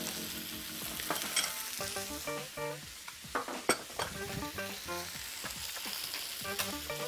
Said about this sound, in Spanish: Vamos a darle una última vuelta al pollo